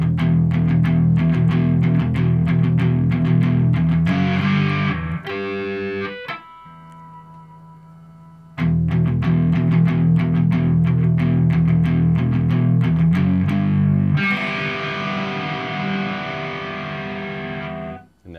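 Distorted electric guitar playing a riff with a string bend: loud, driving galloping chugs with sustained distorted notes in between, playing alone without voices.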